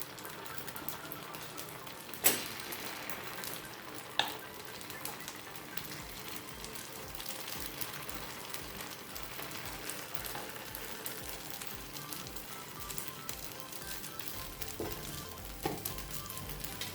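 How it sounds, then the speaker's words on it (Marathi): Rice and mixed dal appe batter sizzles in an appe pan over medium heat, a faint, steady crackle with a couple of sharp clinks, with no talk. "तयार केलेले पीठ आपण ह्याच्यामध्ये टाकूया तव्यामध्ये."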